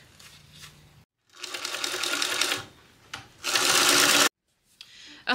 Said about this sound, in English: And now we're going to baste that on really quick.